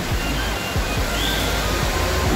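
Taytay Falls in Laguna roars as a steady, dense wash of falling water, loud and continuous throughout, with no one speaking.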